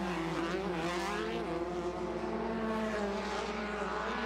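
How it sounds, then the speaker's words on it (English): Volkswagen-based limited off-road racing buggies with 1600 cc engines roar past together on a dirt track, a dense, loud, sustained engine drone with shifting pitch throughout. "The top five buggies rounding the final corner now, coming across the stripe."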